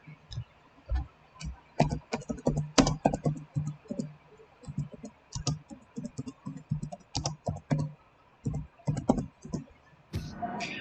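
Fingers type a cheat code for Red Dead Redemption 2 on a computer keyboard, producing close, crisp clusters of key clicks in short bursts with brief pauses, then a soft rush of noise at the end.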